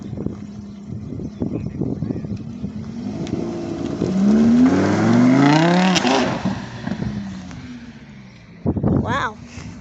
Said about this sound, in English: departing now is one of the Lamborghini Huracans